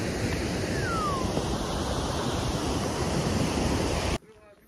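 Nugget Falls, the waterfall at Mendenhall Glacier in Juneau, Alaska: a steady, loud, broadband roar of rushing water with some wind on the microphone, continuous until it cuts off abruptly near the end.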